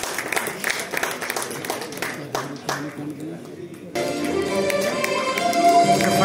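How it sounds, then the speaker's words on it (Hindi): Audience applause at a film festival in Bareilly breaks out alongside an emcee's amplified voice, claps scattered at first and then swelling into a fuller, louder round that builds toward the end. "जोरदार तालियां अधूरी कहानी के लिए।"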